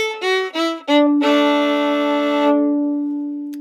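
A fiddle plays the closing phrase of the tune She Said She Couldn't Dance, with a few short bowed notes leading into a long sustained double-stop chord on the open D that rings out and fades.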